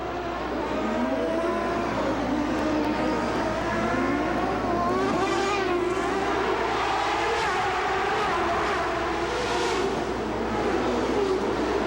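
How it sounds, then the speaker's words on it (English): 1994 CART Indy race cars with Ford and Ilmore engines race at the Vancouver street circuit, producing a continuous loud roar with overlapping engine whines that rise and fall as cars pass. "It's Ford horsepower versus Fittipaldi in the Ilmore."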